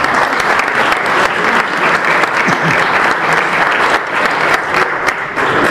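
Sustained, dense applause from an audience at a football club partners' evening, honouring former player Georges Beretta, loud and steady throughout.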